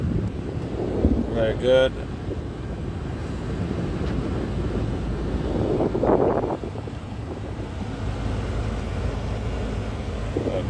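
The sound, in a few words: Kia Sorento air conditioning fan blowing air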